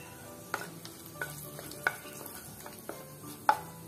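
Cinnamon, cloves and a small cardamom fry in hot oil with a soft sizzle, broken by several sharp stirring knocks of a utensil against the pan at irregular intervals.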